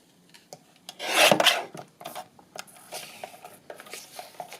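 Edge of an accordion part trimmed by hand, a loud close rasping scrape early on followed by a series of lighter short rubbing strokes.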